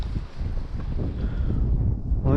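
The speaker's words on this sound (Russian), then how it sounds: "Ух ты, как ветер-то." Wind blows hard across open water on a fishing trip, a continuous rough rumble of gusts buffeting the microphone, loud and close throughout.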